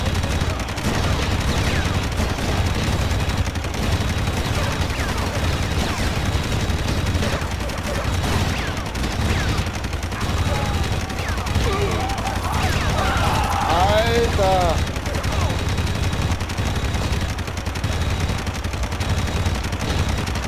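Gunfire crackles through a firefight in the shooter game Red Faction, with bursts and sustained volleys set against a dense, steady wash of game noise while voices talk throughout.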